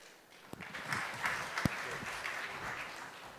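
An audience at the Sankalp Unconvention Summit 2013 applauds a research director unveiling a report, dense clapping from a large crowd that swells after a few sharp claps and carries on steadily.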